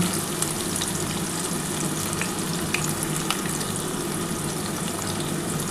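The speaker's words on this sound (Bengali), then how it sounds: "এবার পেঁয়াজটা একটু ভালো করে নাড়াচাড়া করে" Onions sizzling as they're stirred in a pan for a chicken and potato curry, a dense continuous frying hiss with faint scraping underneath, close and steady, no talking.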